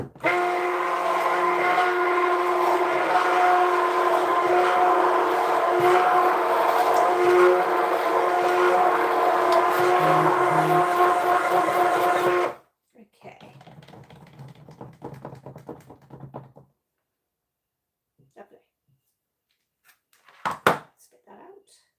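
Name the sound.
stick blender mixing cold process soap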